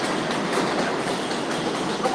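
A train passes close by, producing a loud, continuous broadband rumble with the rhythmic clickety-clack of wheels on rails. No one speaks.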